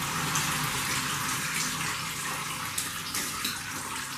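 Whey is poured through cheesecloth into a colander during cheesemaking, a steady, continuous splashing gush of liquid that holds the same level throughout, with no talking.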